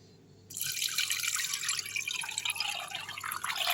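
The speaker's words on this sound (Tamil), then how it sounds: "இப்போ இந்த ஜல்லடையில் வடிகட்டிடலாம்" Coconut milk poured through a sieve in a home kitchen while making coconut oil, a steady close liquid splash and trickle that starts abruptly and runs on with no talk.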